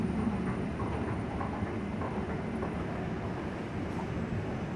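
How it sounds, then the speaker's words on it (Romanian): A steady rumbling roar of a Bucharest metro train arriving at a new station, with rattling clatter and continuous mechanical noise, fairly loud and close. "Se pare că a venit și un metrou, nu este al nostru."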